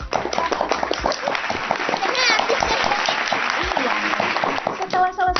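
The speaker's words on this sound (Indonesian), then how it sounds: "Tepuk tangan untuk para pemenang karena semuanya cerdas." Children clapping for the winners at a storytelling event, a dense continuous patter of hands mixed with voices and a few shouts, fairly loud and close.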